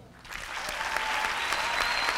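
A student panel audience claps for itself, a dense wash of applause that swells from a scattered start into a full, steady roar close by.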